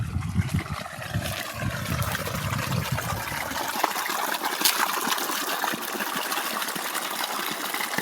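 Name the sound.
flowing water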